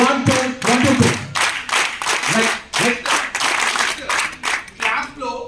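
A group of children practising impact claps in a classroom, sharp hand claps landing in a counted rhythmic pattern of short bursts separated by brief pauses, with some voices mixed in.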